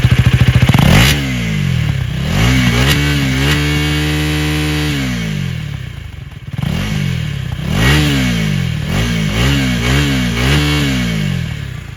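A KTM Duke 250 with a short stubby underslung exhaust is revved hard several times up close: loud rising and falling engine blips with brief holds at high revs, and no talking.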